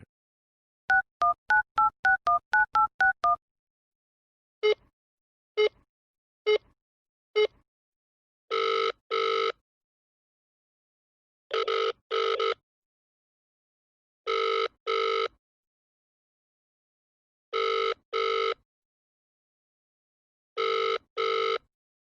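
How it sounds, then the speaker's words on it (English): A telephone number is keyed in as a rapid run of short dialing tones followed by a few slower beeps, then paired ringback bursts repeat at regular intervals against silence. "dial the number."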